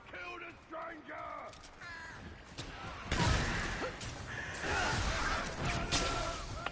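Crows caw repeatedly in the Remnant 2 video game, harsh calls at mid distance over game background noise, followed by crackling crash-like effects as the flock is struck.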